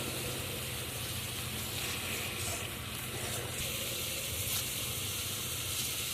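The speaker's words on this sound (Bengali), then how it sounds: "এখন মশলা থেকে তেল ছাড়তে শুরু করেছে" Turmeric masala frying in oil in a pan as the oil begins to separate, while making a Bengali rui fish curry with cauliflower: a steady, quiet, continuous sizzle and hiss that holds an even level throughout with no talking.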